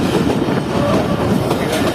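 Jaffer Express passenger train rolling past Attock Khurd railway station on the Peshawar to Lahore line, a loud, close, steady rumble with continuous wheel clatter and no voices.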